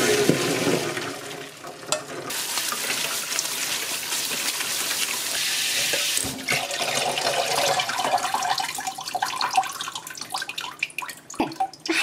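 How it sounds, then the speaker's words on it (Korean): Cold tap water runs steadily over boiled glass noodles, a continuous close splashing rush that shifts and gurgles as the noodles are moved and rinsed, with no talking. "찬물에 헹궈 오겠습니다."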